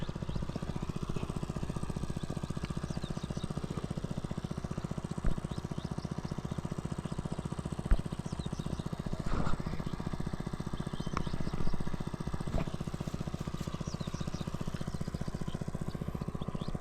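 A water pump machine's engine runs steadily throughout, a continuous mid-pitched mechanical drone with a few brief knocks and clatters over it, fairly close and without speech.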